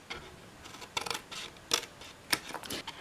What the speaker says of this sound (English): I'm going to angle cut on the edge of both sides